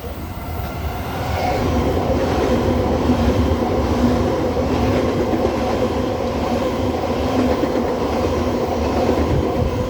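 An electric double-deck D-set passenger train rumbles steadily past a station platform at close range, a loud continuous roar of wheels and motors holding level for the whole stretch.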